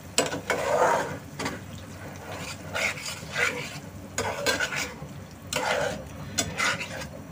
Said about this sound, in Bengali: এই ডিমটাকে আমি এই মশলাটার মধ্যে দিয়ে দিচ্ছি। দেবার পরে নেড়েচেড়ে একটু মিশিয়ে নিচ্ছি।